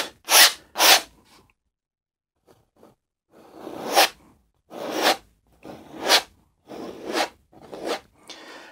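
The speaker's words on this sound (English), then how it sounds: "just pull that excess paint right, scrape it across your canvas" Palette knife scraping excess oil paint across a canvas in a series of crisp, raspy strokes, two quick ones, a pause, then about six more in steady rhythm, close and alone.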